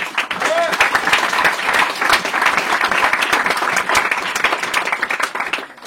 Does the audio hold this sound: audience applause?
yes